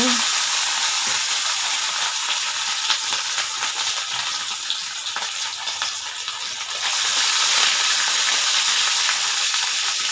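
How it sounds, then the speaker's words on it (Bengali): Turmeric-and-salt-coated fish frying in hot oil in a wok, a constant loud sizzling hiss that swells louder toward the end, with no talking. "কড়াইয়ের তেলটা গরম হয়ে এসছে এখানে আমি মাছগুলো এক এক করে ভেজে নেব"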